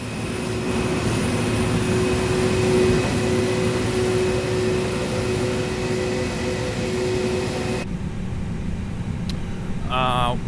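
Pratt & Whitney-powered A321 jet engines hum and howl steadily in a simulated cockpit, a continuous loud broadband roar with sustained tonal whine that stays level throughout, then thins abruptly near the end as a brief chirping sound appears.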